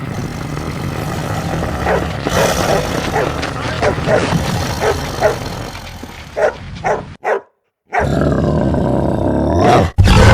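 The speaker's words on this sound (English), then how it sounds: "With one mighty roar, the lions declared their fury." Lions roaring in a wild-animal battle scene, a run of loud, rough roars over a dense rumbling background, with several sharp bursts and a brief drop to silence before the roaring resumes.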